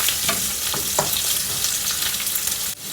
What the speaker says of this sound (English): Now we fry this all well together till the onions turn light brown.